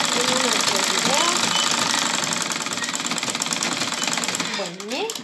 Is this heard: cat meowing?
no